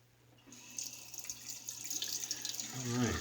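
Tap water runs steadily into a sink for a quick rinse after a wedge-blade razor shave, a broad hiss building from near silence and swelling toward the end with splashing.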